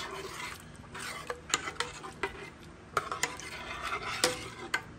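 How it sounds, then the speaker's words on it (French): A spoon stirs rice in a pot, giving close, repeated scraping and clinking strokes against the pot in an irregular rhythm over a faint background hiss, with no talking. "Maintenant, je vais tourner. Il ne faut pas que le riz attache."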